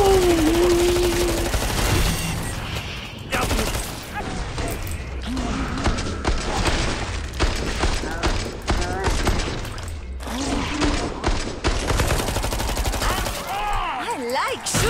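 Rapid gunfire in the video game Killing Floor 2, dense bursts of shots and impacts filling the whole stretch loudly, with short breaks and game effects layered between volleys.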